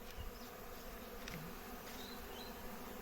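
Honeybees fly around a beehive in a steady, close buzzing drone that persists throughout, with occasional individual bees passing nearer. No voices are present.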